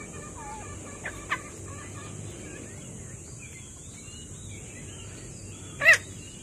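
Native chickens cluck softly on a farm among turkeys, scattered short calls under a steady high background hum, with one louder sharp call near the end.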